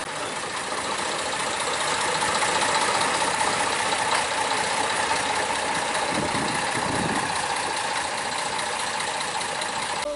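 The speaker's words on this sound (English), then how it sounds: "The shunt was performed by Planet, constructed by F.C. Hibbard in 1946 for the Liverpool Corporation, being fitted with a 28 horsepower engine." Planet, a 1946 F.C. Hibberd shunting locomotive with a 28 horsepower engine, runs steadily with a dense, continuous mechanical drone, loud and close, with a brief heavier rumble near the end.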